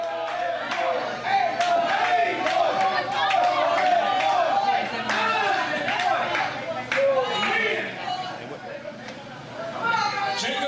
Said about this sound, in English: Crowd behind the Golden Boy.